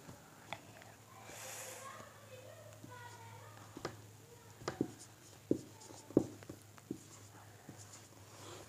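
Numbers written by hand with a pen on paper, soft scratching strokes and scattered taps growing busier toward the end, fairly close and quiet over a low room hum; no talking.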